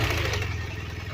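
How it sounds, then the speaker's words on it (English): A BMW R1200RS boxer-twin motorcycle engine runs close by, a steady low pulsing throb with mechanical clatter and no talking. "So you can hear that boxer engine."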